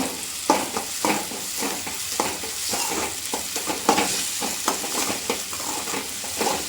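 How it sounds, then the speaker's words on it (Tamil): Green tomatoes sautéing in a pan for a fish fry gravy, a continuous sizzle broken by a regular series of spoon scrapes and taps, close and moderately loud, with no talking. "இது பச்சை தக்காளியும் நல்லா வதங்குற அளவுக்கு இதை நல்லா கிண்டி வச்சுக்கலாம் தக்காளி நல்லா வதங்கட்டும்"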